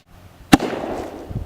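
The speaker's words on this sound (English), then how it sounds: "So this is our first black powder vessel. We're going to throw it in the fire pit" A black powder vessel bursts in a backyard fire pit with a sharp, close bang, followed by crackling and rumbling and a second sharp pop at the end.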